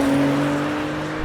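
Three performance cars, a BMW M4, a Mercedes-AMG C63s and an Audi RS5, launch together off the line in a drag race, giving a loud, steady engine drone with strong low tones across the short burst.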